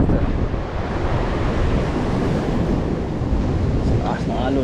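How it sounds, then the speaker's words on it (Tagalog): Ocean waves surge continuously on a rainy day, with heavy wind buffeting the microphone and a constant loud rush throughout. "Sa taas ng alon."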